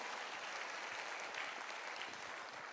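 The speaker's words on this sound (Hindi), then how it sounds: "सारे के सारे लोग तालियां बजाएंगे" A crowd at a business leadership recognition event applauds in a steady, even wash of hand claps that holds throughout, sounding faint and distant with no voices over it.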